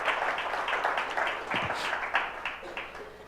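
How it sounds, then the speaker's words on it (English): An audience at a technology-and-development panel event claps to welcome the speakers, a moderate patter of applause with a few murmurs underneath. "please welcome our speakers today with a round of applause"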